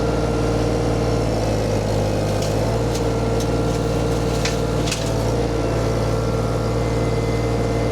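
A VMENG 25HP mulcher drive powers up and runs steadily at 2200 RPM, a loud continuous mechanical drone with a steady low hum and a few faint higher clicks, no talking.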